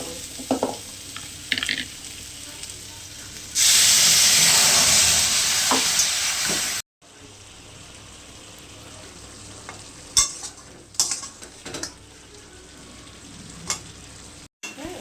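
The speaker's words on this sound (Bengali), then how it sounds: "হলুদ দিলাম এগুলো ভালো করে ভেজে নিয়ে তারপরে মশলা দেবো" Vegetables with turmeric frying in a pan for a potato, green banana and pabda fish curry: loud hissing sizzle surges for a few seconds, then quieter crackling with scattered stirring clicks, no talk.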